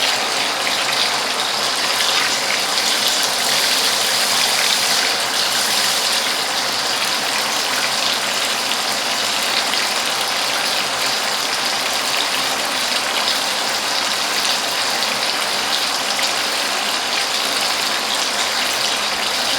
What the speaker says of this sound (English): You can use this pump for extraction of water from rainwater collection tank.